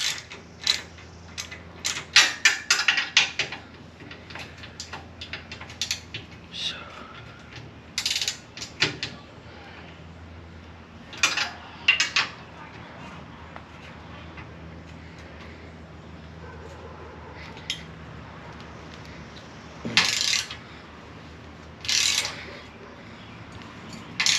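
Ratcheting wrench breaking loose nuts on a boat, with a series of sharp clicking ratchet bursts and creaks spread across the clip at close range, separated by quieter stretches.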